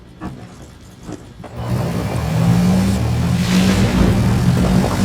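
Motorcycle engine in the Medal of Honor video game, revving up after a short quieter stretch and then holding a loud, steady drone with rising whine, up close.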